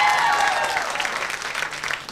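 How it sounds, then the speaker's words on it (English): Audience applause at Caroline's comedy club in New York City: dense, continuous clapping from a crowd, loud and steady, fading slightly toward the end. "Round of applause"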